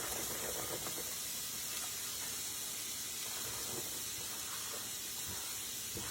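Onions and peppers hitting a hot pan, a steady bright hiss of sizzling that holds evenly throughout, close and fairly quiet, with no voices.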